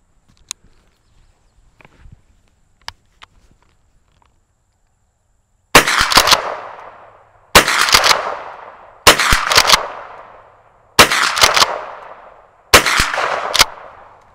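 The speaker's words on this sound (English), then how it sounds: "we'll shoot a few slugs through it" A Mossberg .410 pump shotgun fires five Brenneke 3-inch magnum slugs at a steel target 50 yards away. The loud blasts come at intervals of a second or two, each with a decaying tail, after a few quiet handling clicks.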